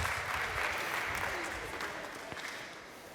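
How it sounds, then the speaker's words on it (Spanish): Warm audience applause in a congress auditorium in Barcelona greets a speaker taking the stage, a dense, steady clapping that fades slightly toward the end. "pues con un fuerte aplauso y cálido lo recibimos"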